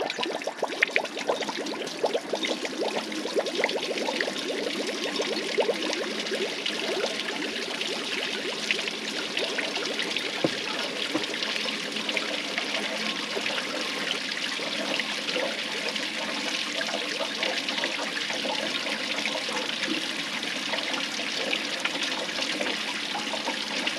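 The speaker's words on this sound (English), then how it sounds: "Put the hose in there with a rag around it and watch the water come out here." A garden hose pours water through a radiator with a rag wrapped around it, giving a steady rushing, splashing flow. It runs unbroken for the whole stretch, close and even in loudness, with no talking.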